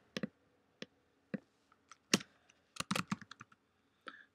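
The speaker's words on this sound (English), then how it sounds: "I just typed hello" Keystrokes on a computer keyboard, a series of separate taps spaced unevenly at first, then a quick cluster of presses in the middle, with a final tap after a pause. The sound is close and clean, and nobody speaks.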